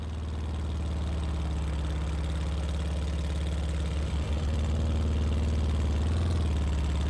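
A steady motorcycle engine drone in a World War II-era video game idles and hums, low and continuous, rising slightly near the end, with no voices.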